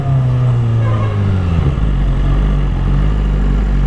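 Loud motorbike engine revving close by on a Sunday ride, a deep rumbling tone that climbs and then drops into a low steady throb, with no talking over it.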